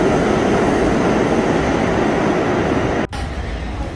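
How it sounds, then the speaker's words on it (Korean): A century-old New York subway train roars steadily and loudly through the whole stretch, a dense rumbling rush, briefly cut by a sharp dropout near the end before the noise continues slightly quieter. "정말 100년 이상의 시간이 느껴지는 뉴욕 지하철입니다."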